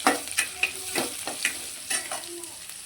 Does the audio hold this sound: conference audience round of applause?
no